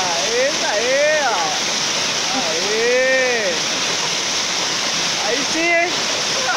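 A hidden waterfall in the Serra do Mar pours in a loud, constant rushing wash up close, while people shout and chatter excitedly over the roar.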